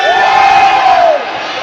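Spectators at a combat-sports fight between gym teams roar and cheer in a loud, brief crowd swell with a prominent sustained shout rising above it, then easing off.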